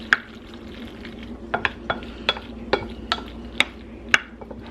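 Macaroni and cheese mixture being stirred in a pot, with a utensil scraping and clinking against the sides in irregular, fairly close taps over a low steady background hum.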